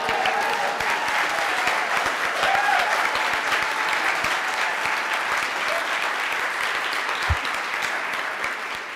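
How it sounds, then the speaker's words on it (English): Loud, sustained applause from a crowd at a 2013 campaign victory party for Kshama Sawant, a dense steady patter of clapping that fills the room without a break. "Give him an applause."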